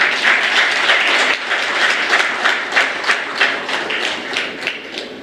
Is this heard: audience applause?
yes